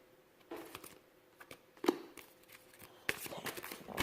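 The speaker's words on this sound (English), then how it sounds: "I'm gonna have to shuffle up here really quick" Tarot and oracle cards being shuffled by hand in a quiet room, with soft riffling and slapping bursts interrupted by pauses and a sharper card snap.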